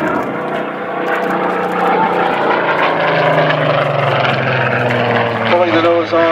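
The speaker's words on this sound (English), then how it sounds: "As he quickly turns the Spitfire around to come back from the right." Spitfire Mk XVIII propeller aircraft turning around during an airshow demonstration, its engine droning loud and steady with a rising, shifting pitch as it comes back.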